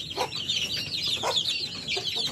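Plymouth Rock chickens and chicks cluck in a small backyard coop, with steady high chick peeping and a few nearer low clucks repeating over the whole stretch.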